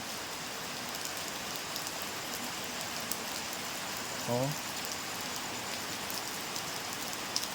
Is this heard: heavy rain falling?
yes